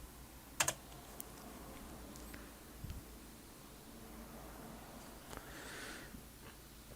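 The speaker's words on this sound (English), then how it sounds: "Peter, I was typing, David." Typing on a computer keyboard while playing an Oregon Trail clone in the Apple II style, with a steady run of soft, quiet key clicks, a couple of sharper taps near the start, and a faint background hiss.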